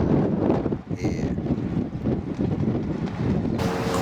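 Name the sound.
strong wind blowing by a lake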